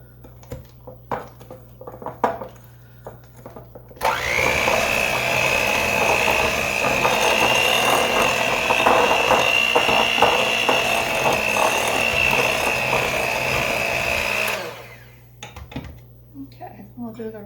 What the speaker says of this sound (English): I'm going to just kind of stir it in with my hand here before I turn on the beater